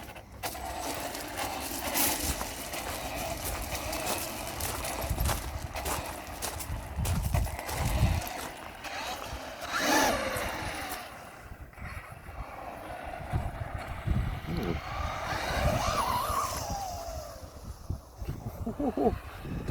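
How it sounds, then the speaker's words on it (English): A Traxxas RC car fitted with a 6780 centre diff upgrade runs continuously, its gears giving a rough, rattling mechanical whir that surges and eases over about twenty seconds, close and fairly loud. "That sounds like you can hear the noise of the gears."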